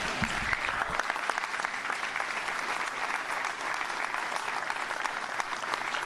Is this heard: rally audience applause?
yes